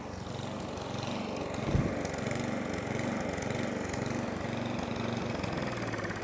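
An Atco Balmoral cylinder lawnmower with a fuel starvation fault runs at a steady idle, its engine drone continuous and fairly close, with a brief thump partway through; the engine does not clearly cut out.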